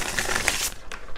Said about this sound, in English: I'm going to put those back because I'm going to shuffle.